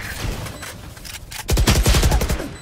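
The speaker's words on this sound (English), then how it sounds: "I shot one." Rapid gunfire bursts in the video game Valorant, a fast automatic volley of close, loud shots after quieter game sounds.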